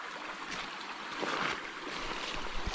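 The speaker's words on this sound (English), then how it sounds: "Here, the creek, isn't that pretty?" A creek flows steadily on a rainy day, a continuous broadband wash of running water heard close and alone, with small splashy fluctuations.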